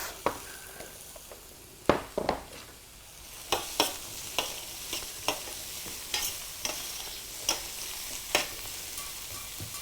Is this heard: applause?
no